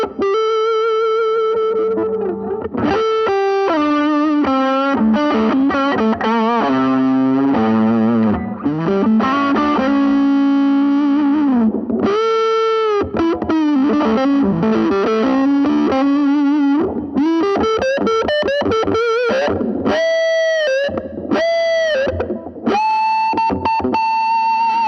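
Electric guitar played through a Vox MV50 amp set to a smooth, rounded "woman tone" with the deep switch on, heard as an unaccompanied, sustained melodic phrase of bends and held notes with distortion and effects.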